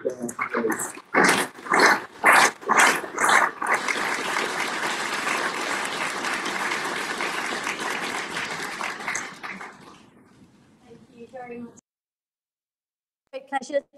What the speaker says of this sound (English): could you give a round of applause to Jeremy and Rose?